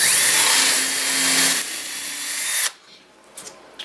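A power drill whines steadily as it bores a hole in wood, loud and close, shifting pitch partway through before cutting off, followed by a few light knocks.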